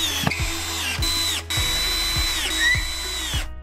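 A power screwdriver drives self-tapping screws through a metal corner bracket into the side rail of a single bed frame, with several sustained whining runs broken by brief pauses and clicks, loud and close.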